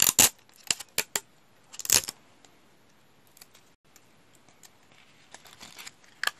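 Sticky tape torn off in short sharp rips close to the microphone while preparing a Christmas DP, several separate bursts with quiet gaps between them.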